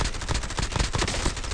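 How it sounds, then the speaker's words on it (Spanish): Dense, rapid video game gunfire rattles in overlapping bursts, loud and close throughout, with no speech over it. "Un par de disparos, manda un par de disparos."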